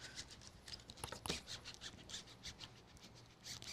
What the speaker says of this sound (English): So using that burnishing tool is very, very helpful.